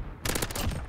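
Shotgun fire in Modern Warfare gameplay, a short burst of loud, close blasts packed into under a second.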